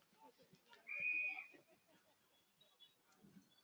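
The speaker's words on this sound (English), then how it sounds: "So the whistle blown, and it'll be take 2." A single short, shrill umpire's whistle blast sounds over distant crowd murmur at a football match, with fainter whistle tones and indistinct voices afterward.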